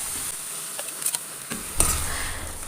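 Ground coconut paste is stirred into a simmering taro leaf pachadi, giving a soft wet scraping and a few spoon taps over a faint sizzle, close and unaccompanied by voices.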